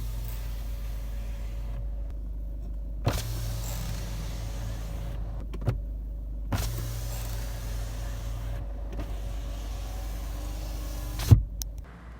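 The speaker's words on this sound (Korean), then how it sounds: "조수석 창문을 내릴 때 저런 찌그덕하는 소음이 발생이 되더라고요" Peugeot passenger-side power window lowering inside a parked car: a faint motor hum runs in a few stretches, with small clunks and creaks as it starts and stops, over a steady low cabin rumble.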